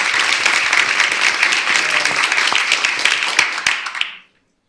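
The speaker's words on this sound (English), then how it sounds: "I think she deserves a big round of applause as well." A conference audience at a law review symposium bursts into a big round of applause for the editor-in-chief, loud dense clapping sustained for about four seconds before cutting off abruptly.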